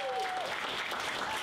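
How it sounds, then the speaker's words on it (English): An audience at a high school student art show applauds the art teachers, giving a steady wash of dense clapping throughout the short clip, with a brief whistle or voice rising above it. "let's give a round of applause for them."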